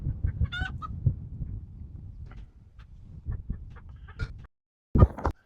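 Scattered clucks and calls from chickens, with a rooster calling out briefly among them, fairly close, ending in a sharp loud burst.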